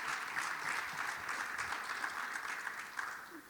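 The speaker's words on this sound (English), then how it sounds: "So I think we should all recognize Fred Starr with a very big applause" A room full of people applauds steadily for a few seconds, a dense patter of clapping that fades slightly at the end.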